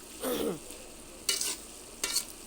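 Mixed leafy greens, including bathua, are stir-fried in a pan: three quiet bursts of stirring and scraping over a soft sizzle, with no talking.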